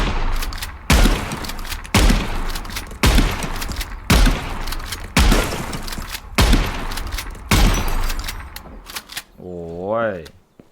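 Shotgun test-fired in the Gunsmith Simulator video game: seven loud, booming shots at a slow, even pace, each trailing into a long echoing decay, followed by a brief warbling electronic tone.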